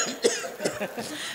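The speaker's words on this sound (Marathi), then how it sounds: "काय की मला खोकला सुधरू दे ना" A man coughs several times in quick, rough bursts during a kirtan, close and fairly loud with no talk over it.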